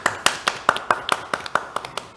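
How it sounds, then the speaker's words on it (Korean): A small workshop audience claps for a sign language interpreter, giving sparse, fairly rhythmic claps from only a few hands. The claps are close and distinct over a quiet background. "여러분들 큰 박수 한번 부탁드리겠습니다"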